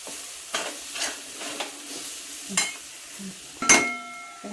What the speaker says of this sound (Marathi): आपल्या कांदा आणि बटाटा चांगला परतलाय